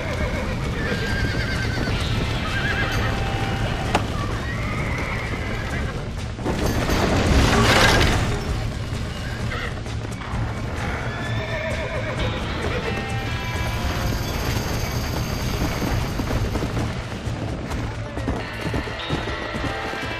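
Horses whinny and hooves clatter in a busy Red Dead Redemption game soundscape, with a louder rushing swell midway and steady background music-like hum throughout.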